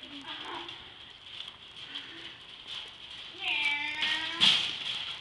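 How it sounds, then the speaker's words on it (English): A cat gives one drawn-out, wavering meow in a noisy, cluttered indoor setting, loud and close, following several seconds of faint murmur and rustling. "And that's Kitty Cat."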